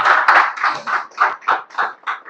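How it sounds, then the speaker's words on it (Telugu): A small group claps in congratulation, a series of distinct, fairly loud hand claps coming in a slowing, uneven rhythm of about eight beats, with no talking. "గట్టిగా చప్పట్లతో అభినందనలు తెలియజేస్తాం"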